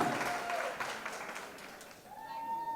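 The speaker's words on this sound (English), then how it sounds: "a huge round of applause for Mahima Makwana and Aayush Sharma." Faint, steady applause from a college audience, a continuous wash of clapping with a thin tone rising near the end.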